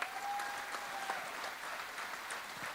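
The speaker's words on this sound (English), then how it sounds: "give a loudest round of applause to them" An indoor audience at a business event in Mumbai claps for award winners, a steady, moderately distant round of applause with no speech over it.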